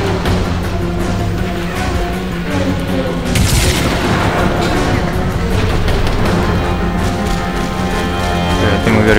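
Gunfire and explosions in the shooter Crysis 3: a dense, loud battle layer with a heavy boom early on, followed by scattered shots and rumbling blasts under a steady droning backdrop.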